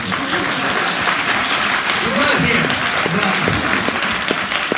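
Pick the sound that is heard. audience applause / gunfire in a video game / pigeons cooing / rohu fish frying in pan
audience applause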